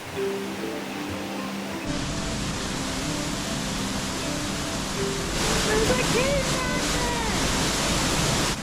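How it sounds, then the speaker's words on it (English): A desert oasis waterfall gives a steady, broad rush of falling water close by, growing slightly louder partway through, with faint higher chirps over the roar. "I spotted the waterfall"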